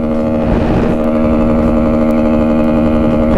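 A Kawasaki Z125 motorcycle engine runs steadily while riding, a loud continuous mid-pitched drone with a held tone and a rough rumbling undertone, close and with no voices over it.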